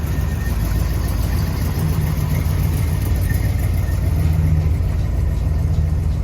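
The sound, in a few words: 1972 Oldsmobile 442 engine idling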